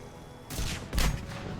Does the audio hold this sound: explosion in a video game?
yes